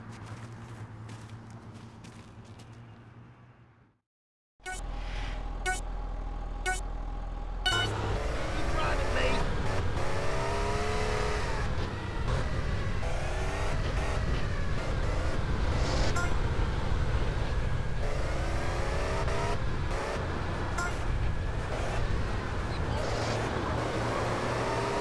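Cars race in GTA San Andreas, with a sustained roar of engines that rev and shift in pitch over nearly twenty seconds, loud and continuous after a brief silence, with talking near the start.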